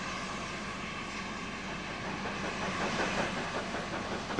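A Great Western Railway steam locomotive running at the Swindon works gives a steady rumbling, chuffing mechanical drone that swells slightly toward the end, with no voices.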